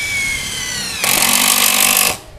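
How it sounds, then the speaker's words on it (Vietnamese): A compact 16-volt cordless power tool drives screws into steel. A rising motor whine breaks into about a second of loud, rapid, rattling driving, then cuts off abruptly. No one speaks. "vít sắt thoải mái mà"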